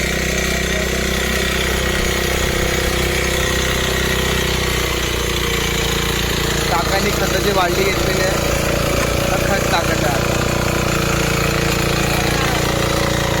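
A tractor engine running in a flooded rice paddy during rice transplanting in Konkan: a constant, loud, low droning rumble throughout, with someone speaking over it.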